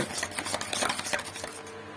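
Tomato and egg mixture for a bread omelette being stirred in a bowl, a continuous busy run of quick scraping and tapping strokes, close and steady with no pause.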